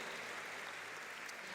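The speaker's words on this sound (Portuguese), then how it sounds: "Dá uma salva de palmas para Jesus." Church congregation clapping together in a steady, dense wash of applause that holds evenly throughout, fairly quiet and with no voices over it.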